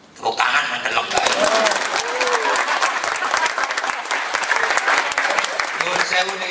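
An audience at a national cultural seminar applauds steadily, loud and sustained clapping filling the room after a brief quiet start.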